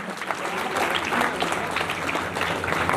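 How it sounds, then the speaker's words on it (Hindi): Sustained applause from a crowd, a continuous wash of clapping hands at moderate volume throughout. "गर्मजोशी से एक दूसरे का तालियों के करतल ध्वनियों के साथ अभिनंदन करें"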